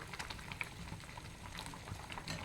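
A pot of drumstick leaf soup simmers on the stove, a soft, continuous bubbling with small irregular pops and blips, quiet and close with no one talking.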